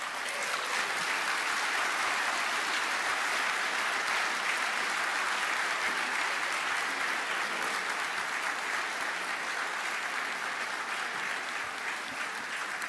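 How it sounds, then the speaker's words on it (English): Sustained audience applause fills the room after a speech, a dense, steady wash of clapping from a large crowd that holds at even loudness throughout with no speech over it. "Big round of applause."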